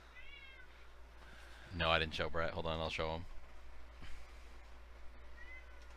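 Domestic cat of about eight pounds, indoors, giving a drawn-out, loud meow close by for just over a second, with people chatting around it before and after.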